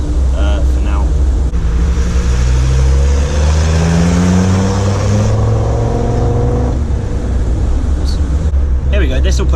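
Land Rover Defender Td5 diesel engine labouring up a hill climb, a loud continuous drone that rises and falls in pitch as the revs change, heard from inside the vehicle with wind and cabin noise.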